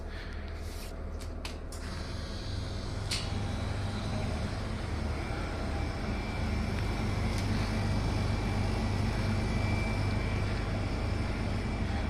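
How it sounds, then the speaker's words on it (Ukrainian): A powerful compressor unit under a corner refrigerated display case starts up, settling into a dense, steady low hum and rumble that grows slightly louder and holds, with a few faint clicks early on. "І запуск компресора агрегата."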